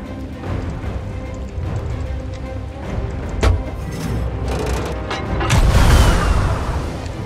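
Cannon booms and explosions rumble in the pirate video game Sea of Thieves, with a sharp blast midway and a larger, louder burst toward the end over continuous game ambience.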